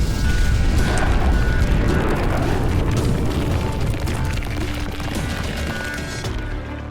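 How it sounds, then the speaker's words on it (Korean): Explosives go off to seal a shelter entrance in the game Arknights: a loud, sustained roaring blast with crumbling rumble that slowly fades over several seconds. "이제 피난처 입구를 봉쇄하기 위해 클로저가 폭발물을 터뜨립니다."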